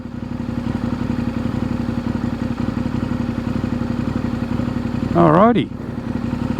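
An adventure motorcycle set to about 100 horsepower in off-road mode with ABS, on sand-dune tyres at a beach, drones steadily near the rider, then gives one short rising throttle blip late on; a voice speaks briefly.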